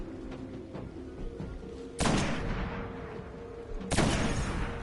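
Golden gun firing in a Call of Duty game, two sharp, booming shots a couple of seconds apart over a low background hum.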